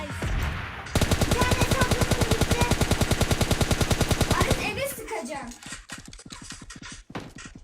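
In PUBG Mobile Lite, a long rapid automatic burst of game gunfire rattles loud and close for about four seconds, followed by scattered single shots and clatter.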